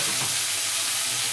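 Tomatoes sautéing in a pan with garlic, a dense close sizzle with stirring hiss throughout the short moment.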